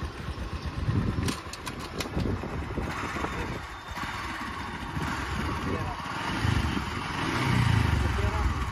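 A farm vehicle engine runs steadily while backing up in reverse gear, a continuous low rumble that swells toward the end, with people talking over it.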